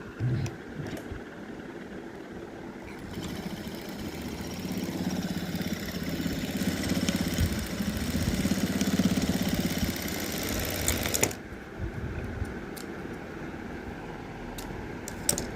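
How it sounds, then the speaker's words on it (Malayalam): A sewing machine stitches along the elastic side of a pair of pants, running as a continuous close mechanical whir for about eight seconds before stopping abruptly, leaving a few faint clicks in quiet room tone. "ഇനി ഇലാസ്റ്റിക്കിൻ്റെ സൈഡ് നമുക്കൊന്ന് സ്റ്റിച്ച് ചെയ്ത് കൊടുക്കാം"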